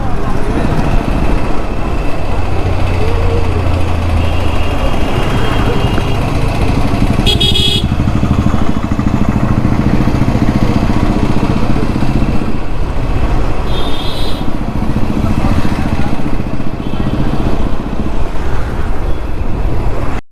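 An Apache 160 4V motorcycle rides a road out of Puri toward Konark, its engine droning steadily and loudly the whole way, with wind rush and passing traffic around it.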